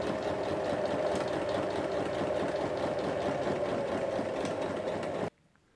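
A sewing machine runs steadily while stitching across the corners of a tote bag, a fast even mechanical whir with rapid needle ticking that holds for about five seconds and then stops abruptly.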